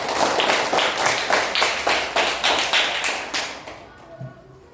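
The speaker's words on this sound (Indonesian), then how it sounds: "Tepuk tangan dulu." A third-grade class of children at an Indonesian Islamic primary school claps hands together in a rhythmic pattern of quick bursts, loud and close, before stopping near the end as a voice is faintly heard.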